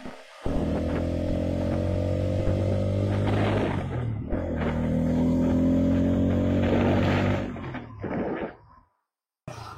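A Bajaj Pulsar N250 motorcycle being ridden gives a loud, close engine drone that climbs in pitch through two long pulls, then cuts off abruptly near the end.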